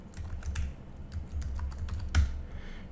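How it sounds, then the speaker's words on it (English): Someone types a password on a computer keyboard, a quick, close run of light key clicks with one firmer tap near the end. "please, don't anybody look as I write my password in."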